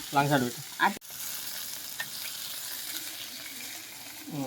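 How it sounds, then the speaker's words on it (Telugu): Green chillies roast in oil in a pan, a steady soft sizzle and frying hiss running throughout, with brief talk at the start and the end. "ఇవి కొద్దిగా లైట్ గా ఆయిల్ లో రోస్ట్ అయ్యేదాకా ఉంచాలి."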